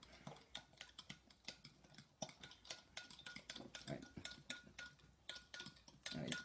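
A spoon stirs a salty-sweet pickled plum drink in a cup, clinking against the sides in quick, irregular taps that continue throughout, close and fairly quiet.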